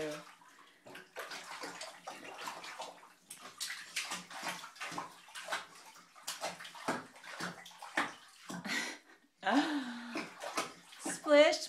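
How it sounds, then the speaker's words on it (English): A young child splashes water in a bath, with repeated sloshing bursts and an adult voice talking between the splashes. "Splish, splash."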